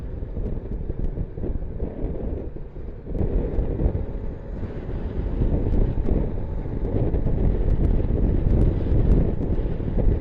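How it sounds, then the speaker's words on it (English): Steady wind roaring and buffeting across the microphone in southeastern Manitoba, a dense low rumble that swells slightly louder in the second half, with no voices. "It's windy today."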